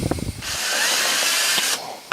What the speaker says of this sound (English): When you drill a hole,